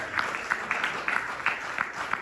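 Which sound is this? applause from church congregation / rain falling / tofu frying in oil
applause from church congregation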